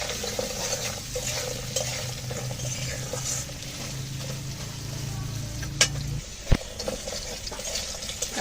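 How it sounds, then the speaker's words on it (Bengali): Crab pieces and potatoes frying together in a pan: continuous low sizzle under a faint hum, with a couple of sharp utensil clacks near the end. "আলু দিয়ে ভালো করে ভেজে নেব।"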